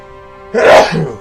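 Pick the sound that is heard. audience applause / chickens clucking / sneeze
sneeze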